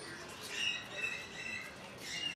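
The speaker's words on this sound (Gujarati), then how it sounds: "અલગ અલગ કોકટેલને સુડો પોપટને આ અલગ અલગ પ્રકારના પ્રજાતિના પક્ષીઓના પિંજરા" Cockatiels and parakeets in aviary cages at the Kankaria zoo in Ahmedabad give off a steady wash of chirps and squawks, with brief shrill calls rising above the continuous bird chatter and background noise.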